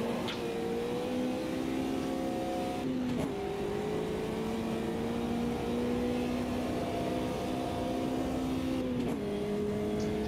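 The engine of a Volkswagen Passat racing in Automobilista 2 holds a steady drone, with two gear shifts where the pitch drops sharply before it climbs again. The sound is continuous and moderately loud.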